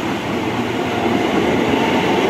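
A commuter train rolls past at Tanjung Barat station in Jakarta, a loud, close, continuous rumble of wheels and carriages with no break over the short stretch.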